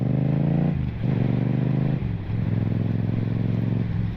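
Motorcycle engine close up during braking and a downshift, a steady low drone that dips twice as the rider blips the throttle between gears, loud throughout with no talk.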